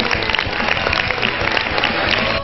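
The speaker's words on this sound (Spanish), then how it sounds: "Vamos a darle un aplauso al Señor Jesucristo." Dense, steady clapping from a crowd at a sacred music event, sustained throughout without pause, with a faint murmur of voices mixed in.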